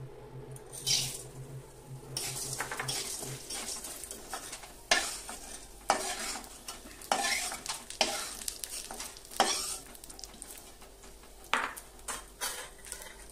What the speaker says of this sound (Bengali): তেল দিয়ে ডালটি একটু ভাজা নেব।